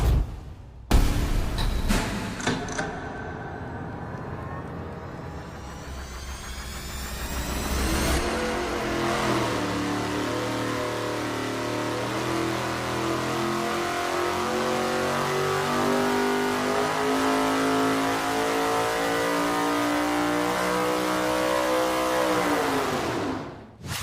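A high-horsepower V8 on an engine dyno revs hard and sweeps up through its range, then holds a loud, sustained full-throttle roar until it cuts off at the end.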